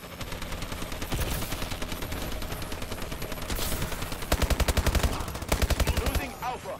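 Automatic gunfire from a Warbird aircraft in Call of Duty pounds away in rapid bursts, with heavy, regular volleys growing louder toward the end under busy game sounds.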